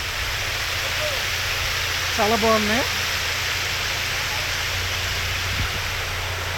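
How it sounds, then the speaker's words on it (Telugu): Flowing water at the new Vizag airport makes a steady, continuous rushing hiss throughout, with a person speaking briefly over it partway through. "ఈ వాటర్ సౌండ్ కూడా వినబడుతుంది కదా,"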